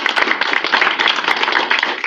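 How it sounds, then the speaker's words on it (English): An audience at a history lecture on the American cowboy breaks into dense, steady applause, a brief burst of many hands clapping close together and fairly loud, with no talking over it. "Give another round of applause."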